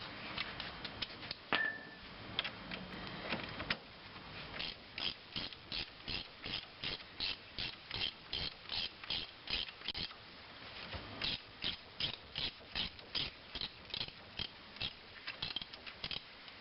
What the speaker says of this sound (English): now that we have them started, we should be able to switch to a ratchet.